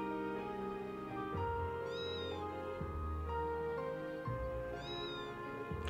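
In the video game Trails of Cold Steel III, a cat gives two faint, thin meows a few seconds apart over a steady bed of game music and ambience.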